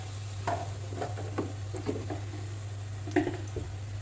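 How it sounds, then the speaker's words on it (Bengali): Eggplant fritters (beguni) fry in hot oil with a low bubbling sizzle, punctuated by several stirring and turning sounds, close up over a steady background hum, no talk. "পেঁয়াজিগুলো ভাজা শেষ। তো এখন আমি বেগুনি ভাজবো।"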